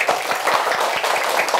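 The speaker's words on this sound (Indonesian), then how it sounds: "Tepuk tangan untuk Raka." A class of primary school pupils claps for a classmate, brisk, close and fairly loud, with individual slaps audible in a steady patter for a short burst.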